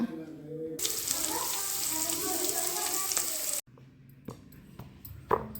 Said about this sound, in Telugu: ఉప్మా అయితే వండుతున్నా ఫ్రెండ్స్ ఇక ఆయిల్ కూడా పోసిన